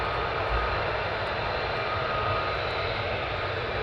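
At RAF Lakenheath, a military jet taxis nearby with a loud, steady broadband engine roar that stays constant throughout, without voices.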